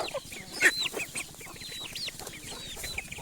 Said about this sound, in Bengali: লাউ কাইটা খাওয়াইতেছি মুরগিরে